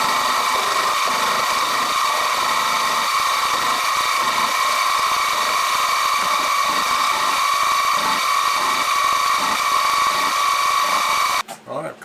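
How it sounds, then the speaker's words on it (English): Machining the base of a Stuart 10V model steam engine on a milling machine gives a continuous high cutting whine with a steady motor hum, running unbroken for about eleven seconds before stopping abruptly. "Got it all milled out now"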